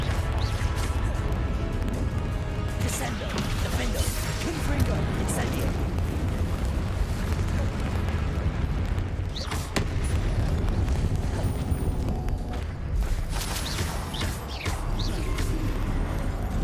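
Wizard spells Confringo and Incendio burst in a fantasy video game, a dense, continuous roar of blasts and crashes filling the whole stretch with a brief dip near the middle, while a voice talks over the din.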